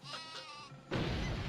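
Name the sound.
Super Sheep bleating in video game Worms Armageddon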